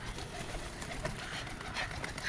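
Soft cooing from pigeons in a net enclosure murmurs steadily through a dense, noisy background, with low repeated calls blending together rather than standing out.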